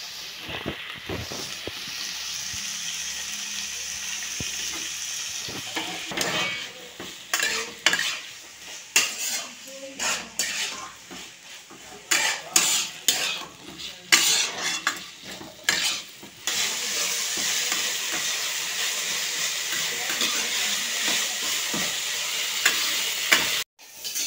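Potatoes sizzling in a pan with a steady hiss, broken by a stretch of clattering spatula stirring against the metal before the even frying sound returns.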